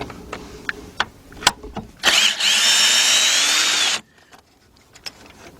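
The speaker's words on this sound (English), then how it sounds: "what I'm going to use is a 12-inch 3/8 drive extension with a 10mm deep socket with my cordless drill." A cordless drill turning a 3/8-inch drive extension with a 10mm deep socket on a 1999 Porsche Boxster whirs loudly for about two seconds, with scattered clicks and knocks of handling before and after.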